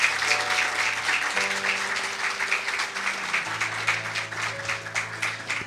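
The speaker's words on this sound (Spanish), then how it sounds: "Un aplauso a Dios, que Dios es fiel." A church congregation claps in praise to God, a moderate burst of applause layered over sustained organ or keyboard chords that shift in pitch beneath it.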